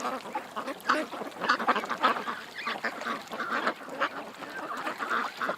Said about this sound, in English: Ducks aren't liking the drone today at all.